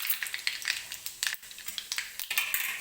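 Cumin seeds hit hot oil in a pan and sizzle and crackle steadily up close, with a dense stream of small pops and spits throughout.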